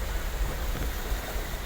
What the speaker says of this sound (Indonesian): Deras bosku, kenceng airnya ini.